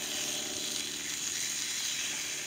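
Food sizzles on a backyard barbecue grill, a steady broadband crackle and hiss running continuously and fairly loud throughout, with no talk over it.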